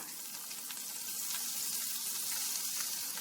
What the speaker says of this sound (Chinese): 鸡皮这面冲下，先用中火煎，盖上锅盖，先煎2分钟